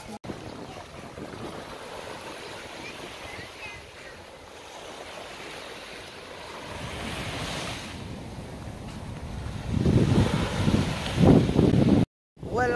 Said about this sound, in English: we just got to Sansan Beach. It's a private beach